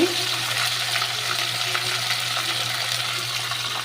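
Prawns fry in a pan with a dense, steady sizzle and a faint low hum beneath, close and even for a few seconds without speech.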